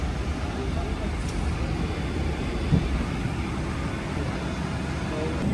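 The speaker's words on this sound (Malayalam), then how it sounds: "അങ്ങനെ നമ്മുടെ ഫ്ലൈറ്റ് മൂവായി തുടങ്ങി" A steady low engine rumble fills an airplane cabin as the flight starts to move, constant and droning, with muffled voices faintly beneath it.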